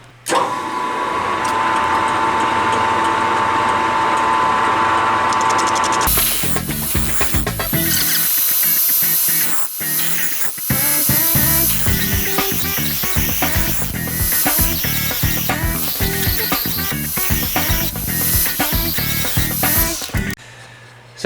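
A metal mill cutting a 40-degree chamfer on a VW bus steering wheel adapter with a small carbide-tip cutter: a spindle whine gives way to loud, continuous, chattering cutting noise with irregular scrapes, ending abruptly.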